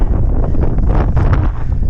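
Wind buffets the microphone in an open marsh during a duck hunt, a loud, close, continuous low roar with gusting swells and no talk.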